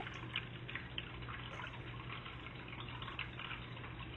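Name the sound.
walking through water in a tunnel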